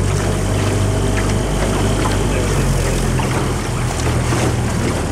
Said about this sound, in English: See the motorboat out there past the...